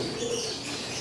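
Pet pigeons in a loft and aviary coo and chirp in a brief, dense chorus, close and steady, with a faint flutter of wings.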